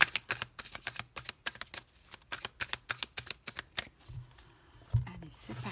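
Oracle cards get shuffled close up in a quick series of crisp riffling slaps over the first few seconds, then a voice starts speaking.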